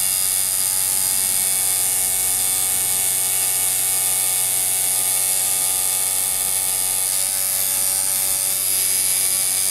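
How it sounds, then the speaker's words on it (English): Ground Zero tattoo machines running together in tune, a steady, even electric buzz with a rich harmonic whine that holds unbroken and fairly loud throughout, with no voices. "Hear our machines running in tune?"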